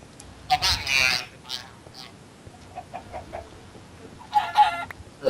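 Chickens in the video game Minecraft cluck in short, bright bursts, a cluster near the start and another near the end, with quieter game noises between.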